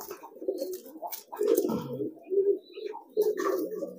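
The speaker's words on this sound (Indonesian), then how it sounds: "Putra Petir ini merpati yang cukup lama ya" Low, throaty racing pigeon coos repeat in several soft rolling phrases, fairly close, with faint higher chirps around them and no talking.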